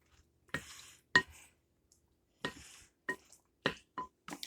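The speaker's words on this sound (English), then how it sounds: "we're just going to stir it all around and mix it all up. I'm using just my wooden spoon" A wooden spoon stirs macaroni salad in a bowl, making sparse, quiet wet squelches and scrapes in short bursts separated by silence.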